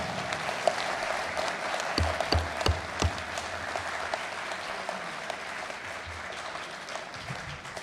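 A crowd at a county planning commission meeting claps in a sustained, moderately loud burst of applause that continues steadily across the whole stretch.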